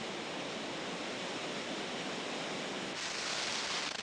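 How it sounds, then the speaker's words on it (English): Chitrakoot waterfall, where the Indravati River cascades over 100 feet in the Bastar region, gives a steady, dense roar of falling water that fills the whole stretch without pause. "The Indravati River, which is the lifeline of the Bastar region, cascades over 100 feet at Chitrakoot."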